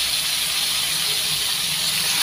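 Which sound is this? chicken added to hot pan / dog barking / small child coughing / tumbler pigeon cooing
chicken added to hot pan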